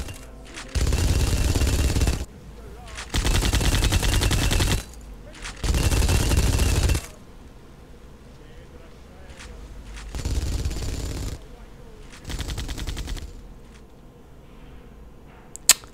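Modded M4 carbine and other guns firing in Skyrim, long loud bursts of rapid automatic fire separated by short pauses, with quieter shots and a final sharp crack.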